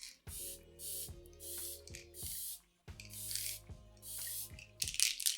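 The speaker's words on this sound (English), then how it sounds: "This definitely has a very, very fine mist, which is really nice." Lawless Glam Guard setting spray is pumped out as a fine mist in about seven short, close, hissing bursts, each separated by brief pauses and faint clicks of the nozzle, with no voices.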